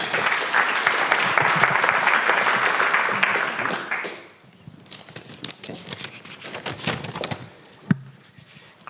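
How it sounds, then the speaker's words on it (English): Conference audience claps in warm, dense applause for a speaker at a healthcare technology event, loud for about four seconds then fading into scattered claps, shuffling and a single thump. "So please join me in giving a warm applause to Danny."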